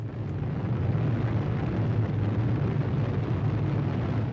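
Deep, continuous roar and rumble from the Trinity atomic bomb test explosion in the New Mexico desert in 1945, loud and steady without a break for the whole stretch.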